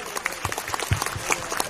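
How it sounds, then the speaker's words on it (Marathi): Audience applause at a SVEEP 2024 voter-awareness event, a short burst of scattered, fairly close hand claps with a crowd murmur beneath. "सर्वांनी कृपया जोरदार टाळ्या वाजवा"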